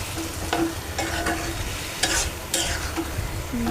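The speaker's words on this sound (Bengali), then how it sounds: "এবার আমরা কিছু মাংস দিয়ে দেব। মাংসটাকে নেড়ে চেড়ে" Chicken pieces sizzle in a hot pan while being stirred, with rhythmic scraping and sharp metallic clinks of the spatula over a steady frying hiss.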